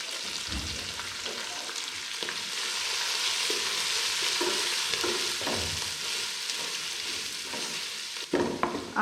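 Cabbage and other vegetables go into browned ginger-garlic paste for a vegetable biryani and are stirred as they fry. A loud, continuous sizzle runs under scraping stirring strokes, and a few sharper clatters come at the end.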